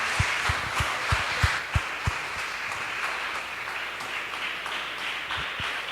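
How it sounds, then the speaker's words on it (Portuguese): Church congregation applauding during worship, a steady wash of many hands clapping with a few sharper individual claps standing out near the start, moderately loud and continuous throughout. "Aplauda o Senhor."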